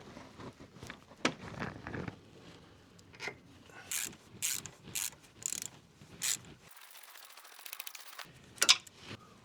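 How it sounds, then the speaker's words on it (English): Ratchet wrench clicking in short bursts while loosening a part on the suspension of a Land Rover Discovery 3 with 300,000 km, heat shield removed; close, moderately loud mechanical ratcheting and tool noises, with a brief pause near the end. "Here's the ratchet in there."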